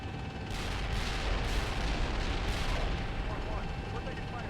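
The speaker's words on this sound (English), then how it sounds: "We're taking fire here." Heavy gunfire and artillery in the Steel Beasts Pro PE tank game roll out as loud, dense, continuous blasts over a low rumble, with voices on the radio underneath.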